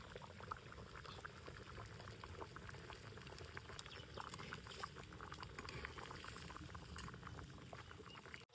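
Fish curry bubbles in a covered pot, a steady close simmering crackle and gurgle that runs evenly throughout at a low level with no voices.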